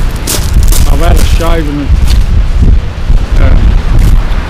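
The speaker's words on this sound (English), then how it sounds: "It's still pretty windy." Strong wind buffeting on Dungeness Beach, loud gusty rumbling and blasts across the microphone while someone talks over it.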